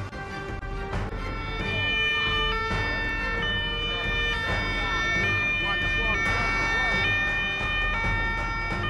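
An ambulance siren wails in repeating rising and falling cycles during a road safety accident rescue drill with firefighters and emergency staff, loud and sustained over background crowd murmur and a low rumble.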